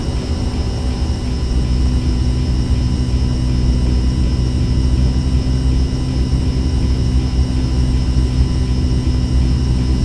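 A constant, loud drone of an airplane engine plays in the X-Plane 11 flight simulator as the aircraft flies on autopilot during a GTN 750 visual approach. The steady roar and hum hold without change throughout, with no talking.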